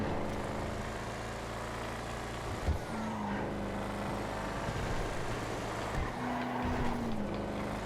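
Bravado Buffalo STX muscle-class sports car from GTA FiveM, a steady low engine drone cruising along with a couple of brief gear-shift dips, no voices.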